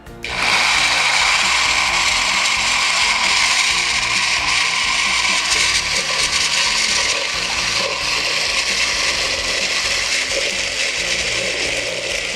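A blender runs loud and continuous, its motor whirring at a steady high pitch as it churns a thick batter made with milk for pastel de choclo, with no talking.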